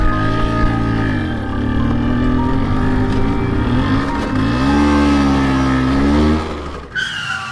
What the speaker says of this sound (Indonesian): kendarai motormu sampai ke tempat tujuan asli